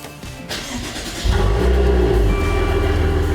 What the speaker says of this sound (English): Then we're going to start the car.